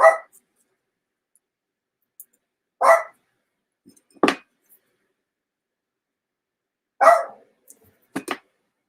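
A house dog barks in single sharp yaps, five or six spaced a second or two apart in an otherwise quiet indoor room, fairly close and loud.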